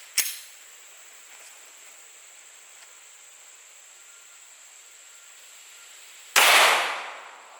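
Two sharp gunshots from a 9mm +P Hornady Critical Duty load fired at a wood barrier, spaced about six seconds apart, each a loud crack with a ringing hiss trailing after it.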